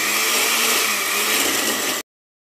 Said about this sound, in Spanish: Vamos a licuar nuestra salsa de mango